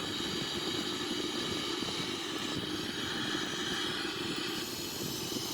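Boeing 777-300ER engines roar steadily during a simulated takeoff, a broad, unchanging drone that is moderately loud and holds throughout.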